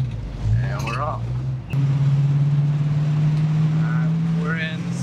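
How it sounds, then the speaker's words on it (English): A 1966 Ford Mustang with the 289 V8 and a 3-speed gearbox pulls away, its engine note dipping at a gear change and then settling into a steady droning rev under wind noise as the car drives on. "We're in second gear now. Down into third."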